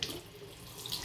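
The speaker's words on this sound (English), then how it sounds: "And then you've got the sink. Let's give it a little run." A bathroom sink tap in a holiday rental runs cold water in a steady, close hiss and splash into the basin, with no voices.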